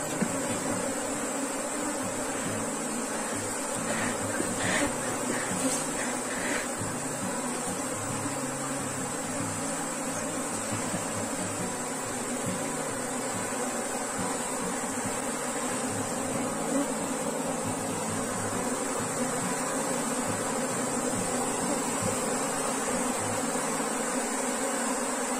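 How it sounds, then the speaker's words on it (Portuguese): Steady, dense buzzing of many honeybees at a split hive fills the air continuously, with a constant hum and no pauses. "tem muitas abelhas."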